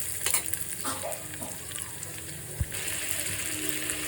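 Curry leaves and garlic fry in hot oil for lemon rice, giving a steady close sizzle with faint stirring clinks and a short knock partway through.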